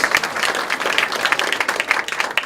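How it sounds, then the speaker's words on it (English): Audience applause at a live magic and mentalism show, dense steady clapping from a crowd filling the whole stretch with no talk over it. "Everybody give Gwen a big round of applause"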